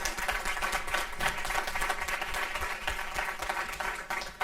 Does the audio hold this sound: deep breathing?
no